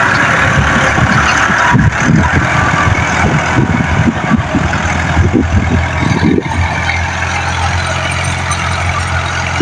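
A Green tractor's diesel engine runs loudly and steadily in the open, a rough chugging rumble with some clattering and a brief shift in tone near the end.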